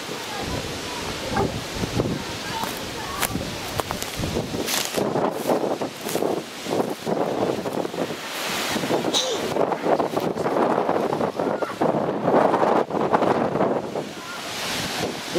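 A storm wind blasts and gusts hard enough to break trees, roaring and buffeting the microphone close up, with voices speaking intermittently beneath the noise.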